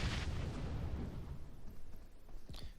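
A grenade blast in the battle royale PUBG Mobile, during a Hong Kong invitational esports match, erupts loud and close, then a deep rumble fades out before a smaller sharp pop near the end.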